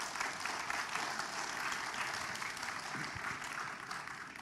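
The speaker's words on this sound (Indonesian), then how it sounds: "Nggak usah tepuk tangan" Steady audience applause at a political talk in Indonesia, a dense continuous clapping from a large crowd that holds at an even level throughout with no voices on top.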